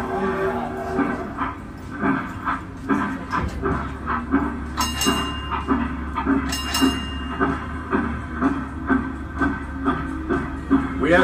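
A sightseeing tour train in St. Augustine rumbles along with a rhythmic clickety-clack of wheels on track, steady and fairly loud, with brief squeals partway through.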